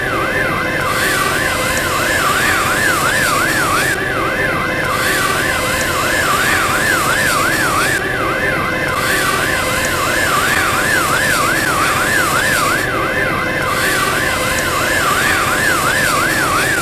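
Siren of a modern PGD Cerknica fire engine carrying 1,500 litres of water and rescue gear, arriving at a school technical day in Rakek; a loud, continuous wailing two-tone siren sweeps steadily over engine rumble, with no voices.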